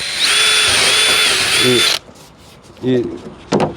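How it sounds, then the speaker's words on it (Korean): A power drill boring pilot holes in a steel door panel of a Hyundai Casper car for speaker mounting screws, a high whine for about two seconds, then two short bursts of drilling. "그래서 사라 길이 가지고 구멍을 미리 내고 피스를 철판에 조을 겁니다"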